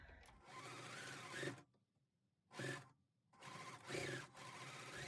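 A sewing machine stitches quilt patches, joining a nine-patch block to a strip set and sashing. There are three close bursts of steady whirring stitching: a long run, a short pause, a brief burst, then another long run.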